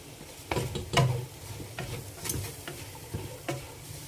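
Thinly sliced onion sautéing with salt in a pan for biryani, a quiet sizzle broken by scattered scraping and tapping stir strokes, with no voices.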